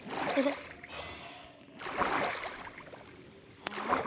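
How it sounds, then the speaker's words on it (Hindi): Game water poured from a bucket in a Minecraft-style world splashes in short bursts, with breathy gasps and soft mouth sounds around it. "मुझे बस वाटर बकेट चाहिए एंड देन यहाँ पे पानी डाल"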